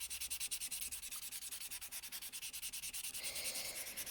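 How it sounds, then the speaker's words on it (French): A three-sided nail buffer block rubs across a fingernail in quick, even back-and-forth strokes. The close, soft scratching repeats in a regular rhythm for several seconds with no talking. "Vous allez utiliser ce bloc pour polir votre ongle"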